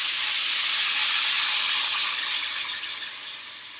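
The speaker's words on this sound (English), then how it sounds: "as you can hear, it's nice and sizzly" Two cups of chicken broth poured into a hot pan sizzle with a loud, bright steaming hiss that slowly fades over a few seconds.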